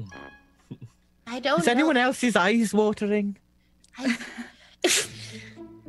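A single sharp sneeze near the end, after stretches of people talking during a tabletop roleplaying session, followed by a brief voiced tail.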